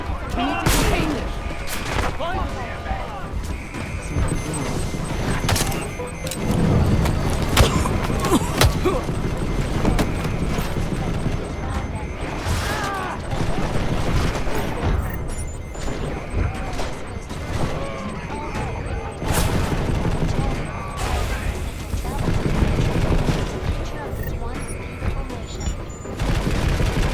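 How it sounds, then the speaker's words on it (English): Dense, sustained gunfire and bursts of automatic fire in a prison riot scene in the video game Deus Ex: Mankind Divided, loud and continuous with crashes and shouted voices mixed in. "Gunfire!"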